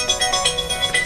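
A phone ringtone chimes in a quick repeating electronic pattern, moderately loud and close, playing on its own for about a second.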